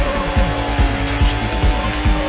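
Porsche racing car in Need for Speed Hot Pursuit 2 driving hard, its engine revving up and dropping through repeated quick gear shifts, loud and steady with a faint hint of tire noise.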